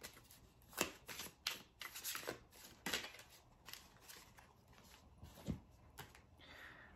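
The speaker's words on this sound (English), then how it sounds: "Let's draw one more card to end this Vampire Diary excerpt." Tarot cards handled and shuffled before one is drawn from the deck: a quiet, close series of papery flicks and slides in irregular bursts, with no speech.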